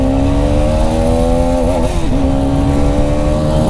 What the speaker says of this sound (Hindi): इंजन बहुत स्मूथ चल रहा है भाई, बहुत स्मूथ, और आवाज़ भी प्यारी आ रही है।